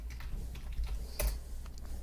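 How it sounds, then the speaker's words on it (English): Computer keyboard keys are tapped quickly while entering a password during a Linux system setup, producing soft close clicks over a low steady hum, with one louder keystroke. "type in the password"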